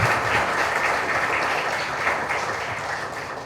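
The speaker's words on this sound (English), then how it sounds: "I would now like to have a huge round of applause for all the dignitaries that we have" A large audience at a national conclave gives the dignitaries a dense, sustained round of applause that is loud at first and slowly tapers off.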